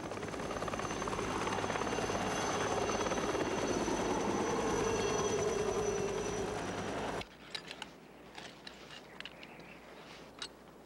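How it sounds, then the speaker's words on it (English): An Air Zermatt rescue helicopter thunders with a loud, steady rotor and engine roar that cuts off abruptly. Faint scattered ticks and knocks follow in the quiet. "The guide radioed the Air Zermatt rescue team."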